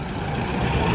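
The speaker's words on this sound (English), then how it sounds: "There's all your delivery trucks that come up here," A delivery truck engine rumbles low and steady nearby on a street in the Philippines, one continuous heavy idle with no talk over it.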